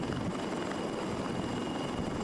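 Super Lynx 300 naval helicopter of the Malaysian navy, heard as a steady, continuous broadband rotor and engine roar with no break in loudness and no voices.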